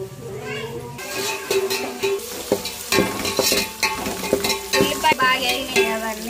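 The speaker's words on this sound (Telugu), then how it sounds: "ఉల్లిపాయ బాగా వేగినాయి కదండి, మసాలా వేసుకొని ఫ్రై చేసుకోవాలి" Onions, green chillies and tomatoes frying with masala in a pan, with a steady sizzle and repeated close scraping and clattering stirs; voices are heard in the background.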